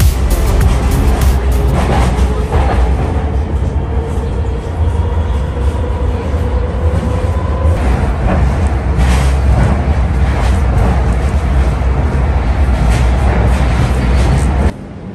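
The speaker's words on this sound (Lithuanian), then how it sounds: "Kijevo metro sustojimas." Metro train at a Kyiv metro station, a loud sustained rumble and roar of the train and station with rising and falling mechanical whines and clanks, a faint voice briefly in the background.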